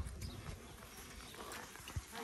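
Hooves of a mare clopping at a cattle-training park during vaqueiro practice, a scattered run of soft knocks on dirt over steady outdoor noise, with one sharper hit near the end.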